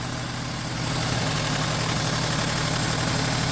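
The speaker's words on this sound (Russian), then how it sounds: "Сейчас мне надо завести двигатель, пусть погреется, и я чуть-чуть его покручу туда-сюда." A warm Opel Vectra engine idles steadily and loudly up close, with a low continuous drone and slight shifts in revs as the distributor is turned back and forth.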